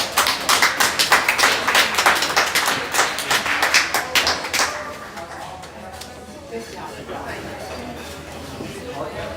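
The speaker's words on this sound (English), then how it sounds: "So I'd like to everybody give a big round of applause for all our sponsors and Miss Melissa Grimmett." Audience applause at a high school basketball coach's show, a dense burst of clapping that is loud for about five seconds, then thins out and fades under low background talk.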